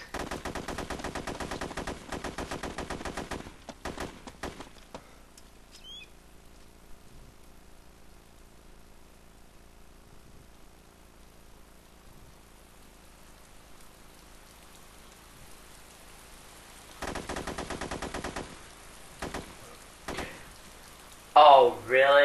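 Rapid bursts of automatic gunfire with grenade blasts rattle in the Arma 2 video game, dense at first, then dropping to near silence before the firing resumes loudly toward the end.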